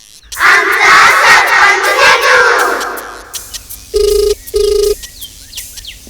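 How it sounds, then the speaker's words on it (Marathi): A telephone rings twice in two short, steady bursts during a call to a village lineman, following several seconds of loud crowd shouting that fades away before the rings. "बरं लावतो फोन आता."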